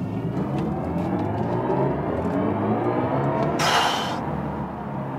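A BMW i4 M50 electric car accelerating hard in sport boost mode, a steady whirring rush of motor and road noise that builds and holds throughout, with a brief hissing swell near the end.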